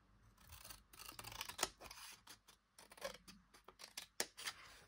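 Scissors cut along the full length of paper for a scrapbook album, a series of close crisp snips and rustling strokes with short pauses between them.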